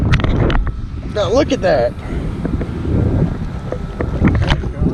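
Wind buffets a fishing boat out on the water during bass fishing, a loud, continuous rumble across the microphone while someone talks briefly over it.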